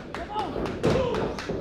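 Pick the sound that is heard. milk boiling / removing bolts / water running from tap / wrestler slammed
wrestler slammed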